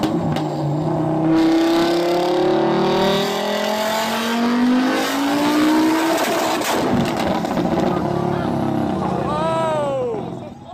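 A tuned Ford Focus race car with a massive turbo and nitrous, making around 1,000 brake horsepower, revs loudly. Its engine pitch climbs in long sweeps, then a harsh broadband burst marks the blow-up, and the car winds down at the end.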